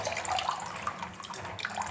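Room-temperature water running into a bowl of dried chickpeas and baking soda set to soak, a steady close splashing pour that lasts throughout with no talking.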